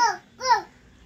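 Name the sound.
child imitating a dog barking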